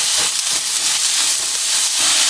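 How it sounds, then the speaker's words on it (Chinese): Mushrooms hit a hot pan holding a little chili, setting off a loud, steady hiss of sizzling that fills the whole moment, close up and with no talking. "这个蘑菇倒进来，"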